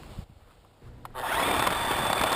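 A hammer drill with a core drill bit grinds into a concrete curb, starting after a brief quiet pause, then running as a loud, steady, close rasping roar.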